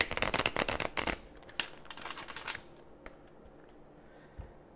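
A deck of tarot cards is shuffled and then cut close by, with a quick riffling burst of papery flutter, then quieter scattered slaps and taps as the deck is squared and split.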